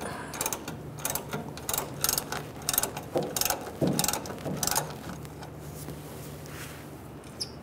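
A ratchet clicks in quick repeated bursts, close and loud, as a bolt is loosened on the fuel tank of a 1999-2006 Chevrolet Silverado 1500, then the clicking tapers off into quieter handling noise.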